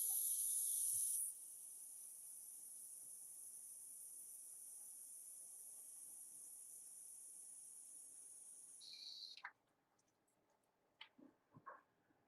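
Airbrush spraying paint, a steady high airy hiss that opens with a louder burst, runs evenly for several seconds, then cuts off, followed by a few faint clicks and taps.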